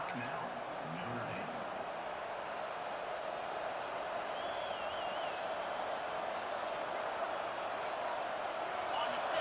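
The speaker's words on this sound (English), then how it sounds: "This crowd bringing an ear-splitting welcome to their visitors." Steady, dense roar of a stadium crowd cheering at a college football game between Notre Dame and Florida, a continuous wash of noise that holds even and sustained without a break.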